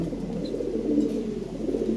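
A big-sized Red Lahori pigeon at a fancy pigeon sale coos in a low, steady, continuous murmur close by. No one speaks over it.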